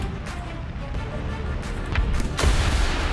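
Cannon fire from an M3A3 Bradley in War Thunder booms in heavy, rolling bursts, with a louder blast near the end and a constant rumble of battle noise beneath.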